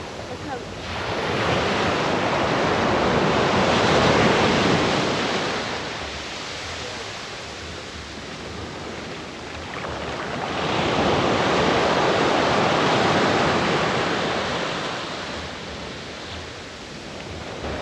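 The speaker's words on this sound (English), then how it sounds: "Very nice beach town." Ocean surf at the beach in Nazaré, Portugal, breaking in two long, roaring surges that swell and fade, with wind buffeting the microphone and no voices.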